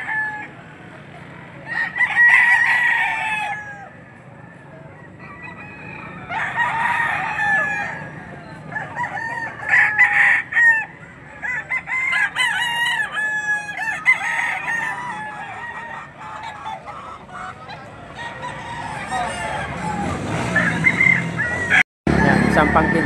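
Yellow-leg gamecock rooster crowing repeatedly with clucks in between, close and fairly loud over a steady outdoor background, no voices over it.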